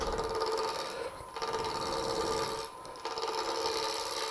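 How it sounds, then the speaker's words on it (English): A woodturning tool rubs its bevel and cuts across spinning wood on a lathe as part of a fancy Christmas tree turning, making a steady close rasping scrape with two brief pauses. "so we're going to do the anchor bevel cut"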